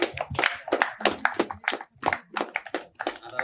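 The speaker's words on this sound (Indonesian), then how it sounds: "Terima kasih. Tepuk tangan." Sparse, uneven clapping from an audience at a scouting (Pramuka) discussion event, a few distinct claps and taps rather than full applause, heard fairly close with gaps between bursts.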